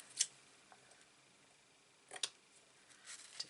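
Scissors snipping paper for a wedding album craft, a few quiet crisp snips spaced apart, close and faint with no talking.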